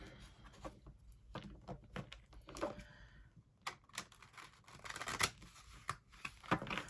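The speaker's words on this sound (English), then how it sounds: "I'm going to shuffle and cut." Tarot cards shuffled and cut by hand, a quiet series of crisp slaps, flicks and rustles arriving in irregular clusters, near and alone.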